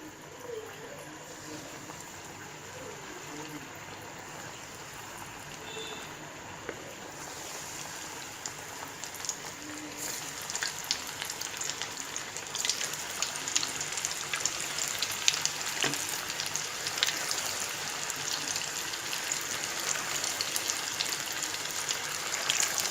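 Raw chicken pieces going one by one into hot oil in a pan, a steady soft sizzle that grows louder and denser as more pieces are added, with no talk.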